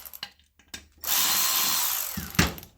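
A power tool spins for about a second while removing the last oil pan bolt, preceded by sharp clicks and knocks and ending in a loud clunk, close and alone.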